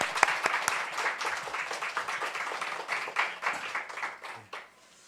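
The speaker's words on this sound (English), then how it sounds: "we want to welcome them with a round of applause" A church congregation claps to welcome a newlywed couple during a Korean-English service, a dense patter of many hands that holds steady for about four seconds and then fades out.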